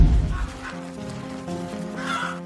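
Hens clucking and calling on a dairy and poultry farm with about 50,000 hens, a busy layered chorus of several birds at moderate distance.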